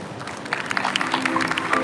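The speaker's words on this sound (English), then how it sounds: "Round of applause, ladies and gentlemen, please" Crowd applause at Binance Blockchain Week, a live blockchain conference in Dubai, building from scattered claps to steady clapping over about two seconds, moderately loud with a faint background hum.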